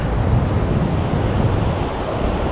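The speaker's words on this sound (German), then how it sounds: "wie windig es hier heute ist." Strong wind on the beach at Gündoğdu near Side in April, a steady loud roaring rush buffeting the microphone throughout with no distinct gusts or voices.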